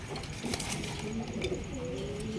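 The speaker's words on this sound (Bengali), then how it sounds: "এখানে রয়েছে একজন হাই কোয়ালিটির আপনার বুলহেড আর্চেঞ্জেল কবুতর" Pigeons at a pigeon farm coo in a steady, overlapping chorus of low, throaty calls, close and fairly loud, with no talking over them.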